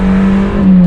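A Mazda MX-5's four-cylinder engine thrums steadily from inside the car, a loud, even drone holding close to constant pitch for about a second with no voices.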